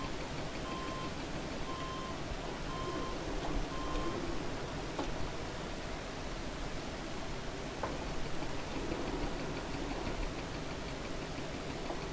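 Steady rain falling in the farming game Farming Simulator 22, a constant soft hiss of even noise throughout with faint tones and clicks beneath, no voices.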